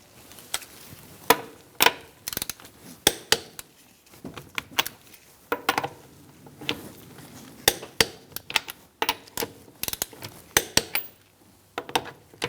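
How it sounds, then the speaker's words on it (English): A torque wrench tightens the wheel lug nuts on a 2004-2009 Mazda 3, giving close, sharp clicking and ratcheting taps in irregular bursts with brief pauses between them. "We're going to torque our wheel to 85 foot-pounds in a star-like pattern."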